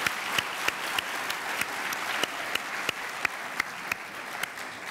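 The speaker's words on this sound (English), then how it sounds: "Please give them a round of applause." Graduation audience applauding at a 2014 high school commencement, steady dense clapping from a large crowd with sharper individual claps standing out, moderately distant and sustained throughout.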